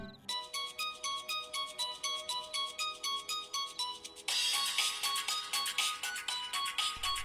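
A phone rings with a repeating electronic ringtone of short, evenly spaced melodic pulses. The tone carries on steadily and grows louder and brighter halfway through, with no one speaking.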